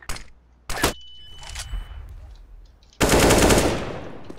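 Video game gunfire: one sharp shot, then a quick burst of rounds, and finally a sustained loud spray of automatic fire, all close and punchy.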